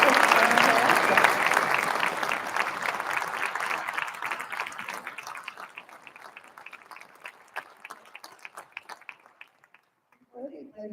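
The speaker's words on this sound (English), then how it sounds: "Another round of applause." A live audience applauds a concert band after its performance, the clapping loud and dense at first and gradually thinning to scattered claps before a few faint voices at the end.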